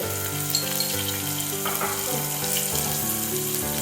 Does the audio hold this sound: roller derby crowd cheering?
no